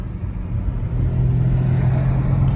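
Nissan 350Z driving on the street after a transmission change, a steady low engine drone and road rumble heard from inside the car, swelling slightly as it pulls along, with no talk.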